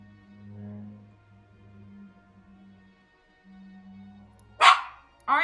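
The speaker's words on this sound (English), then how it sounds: "Why must you always bark, bark, bark, bark, bark, bark?" A dog barks in a video game, two sharp, loud barks breaking in near the end after a low, steady droning hum.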